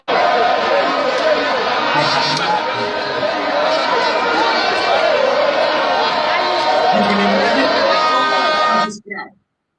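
A large, dense crowd chatters and murmurs steadily for about nine seconds, loud and close, with a mass of overlapping voices and scattered shouts before it cuts off abruptly near the end.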